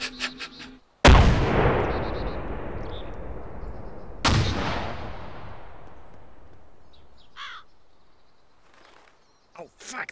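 Grenade explosion and gunfire in the military shooter ArmA 2 with the ACE mod, two sharp loud blasts each trailing off into long rumbling decays, with faint distant sounds in between.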